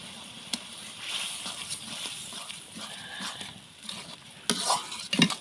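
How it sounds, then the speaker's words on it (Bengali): Roast spice masala is stirred and fried in a pan over a clay stove, giving a steady soft sizzle with scraping spoon strokes and a few sharp clinks of metal toward the end. "এখন ভালো মতো একটু কষিয়ে নিব মশলাটা"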